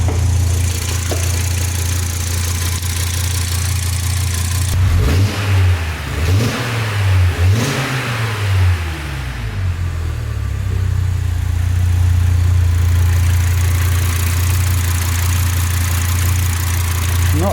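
An Audi RS engine swapped into a VW Caddy cranks and catches, revs up sharply several times, then settles into a steady low idle, close and loud.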